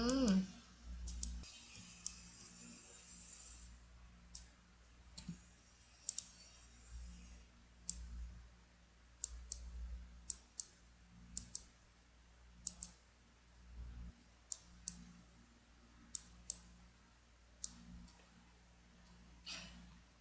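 A computer mouse clicks again and again during work in drawing software, giving sharp, quiet, close single and double clicks at irregular intervals over faint room hum.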